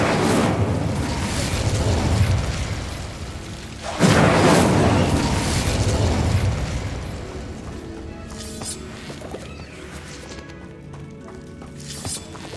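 Incendio fire spell cast in the Hogwarts Legacy video game, heard as two loud, fiery whooshing bursts a few seconds apart, with crackling fading away afterward.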